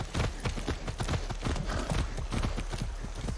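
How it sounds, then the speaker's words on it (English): Steady, rhythmic hoofbeats of a horse in Far Cry 6 clop at a trot, loud and close, continuing throughout without pause. "Hey, a magic horse."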